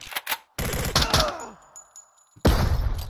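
A flashbang grenade goes off in a room during a tactical shooter game, with short bursts followed by a loud blast and then a thin high-pitched ringing before the noise returns.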